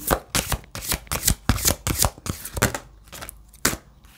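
Tarot cards are shuffled and drawn in a quick series of crisp, close riffling snaps and slaps, busy at first then thinning to a few isolated taps.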